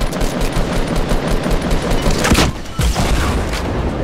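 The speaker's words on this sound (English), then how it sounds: "I'll shoot my rocket down there." In the video game Fortnite, a rocket launcher fires, followed by loud explosions and dense rapid gunfire that carry on throughout, with a heavier boom near the middle.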